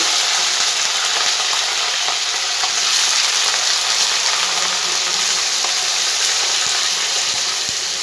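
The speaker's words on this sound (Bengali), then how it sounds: "এবার সিমগুলোকে সব আমি এর মধ্যে দিয়ে ভেজে নেব।" Flat beans fry in hot oil in a wok, giving a loud, dense, unbroken sizzle with occasional crackles and soft knocks, close and with no voices.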